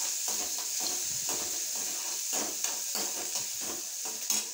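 Banana flower sautéing in a pan: a steady close sizzle with repeated scraping stirs of the spatula over about four and a half seconds, with no talking.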